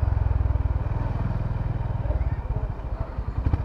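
A Honda RS 350 motorcycle idles close by, its exhaust note a steady, deep rapid thumping with slight uneven pulses toward the end.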